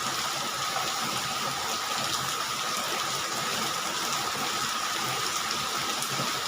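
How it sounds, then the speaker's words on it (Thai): Afternoon rain falls steadily over a village in Bangkok, Thailand, a constant hiss of drops and running water at moderate level with no voices. "ฝนตกแห้งแห้งพี่น้องไทยบรรยากาศฝนตก"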